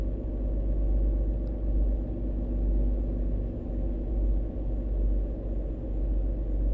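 A heavy-haul truck in American Truck Simulator carries a heavy load, its engine a steady deep rumble that holds close and loud throughout, with gear changes in its 12-speed box blending into the continuous drone.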